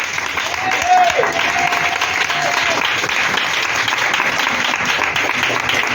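A church congregation claps together in steady, sustained applause with joyful cheering during a prayer service, a sung tone briefly rising above the dense clapping.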